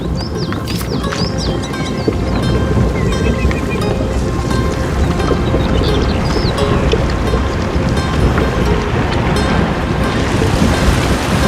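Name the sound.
strong river current and water wheel, video game A Plague Tale: Innocence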